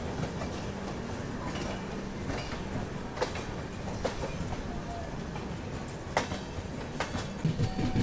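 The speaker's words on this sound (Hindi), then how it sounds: "कितना बिजी स्टेशन है डीडीयू, आप देखिए 2 डिपार्चर 1 अराइवल पैरेलल ही हो रहे हैं और उधर से तेजस राजधानी एंटर कर रही है।" Tejas Rajdhani train entering busy DDU railway station, a steady mid-distance rumble of rolling wheels with rhythmic clacks over rail joints and occasional squeals amid ongoing station bustle.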